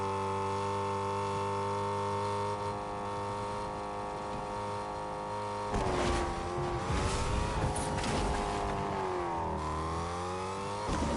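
A car engine in Fortnite hums steadily at cruising pitch, then revs and wavers as it speeds up and slows, continuous and clear with no talking.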